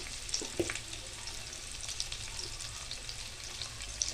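Carrot and potato pieces fry with spices in a pan, a soft steady sizzle close by with a few faint clinks and stirring taps.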